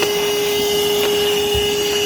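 A Craftsman 20V cordless wet/dry vac runs steadily with a constant high-pitched whine and broadband airflow hiss, close and unbroken, with no talking.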